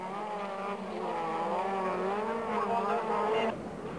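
A Porsche 911 race car drives the difficult alternative track at a Strängnäs Evocupen race in 2004. Its engine holds a loud, continuous, wavering roar that eases slightly near the end.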